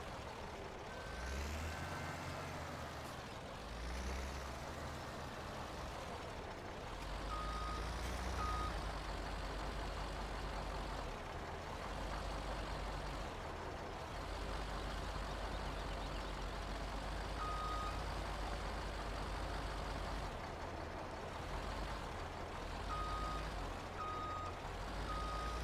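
A truck reverses in Farming Simulator 17 while hauling logs, its reversing beeper chirping in steady repeated pulses over a constant low diesel engine rumble and an occasional air-brake hiss, with no talk.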